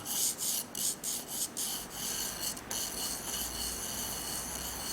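A graphite pencil scratches across drawing paper while a basic shape is sketched, giving soft, close rasping strokes with a few quick bursts at the start that settle into a continuous, faint rubbing.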